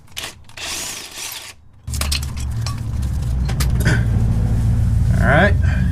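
A power tool buzzes loudly and continuously while removing the final bolt from a car clutch assembly, preceded by a short burst and metallic clinks, with a rising whine near the end.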